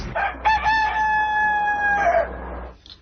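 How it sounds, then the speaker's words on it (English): A recorded rooster crows once, a loud, clear cock-a-doodle-doo lasting about two seconds over a steady low hum, with no talking. "Now everybody knows that's a rooster."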